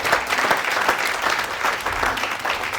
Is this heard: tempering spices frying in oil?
no